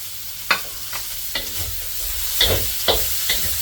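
Shallots frying in a hot pan for fried rice, a low steady sizzle broken by several sharp scrapes and stirs of a utensil against the pan, close by with no talking.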